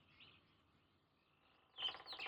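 Faint birdsong from the realMyst video game: soft chirps drift in the quiet first half, then a louder burst of bright tweets breaks out near the end, with no talking.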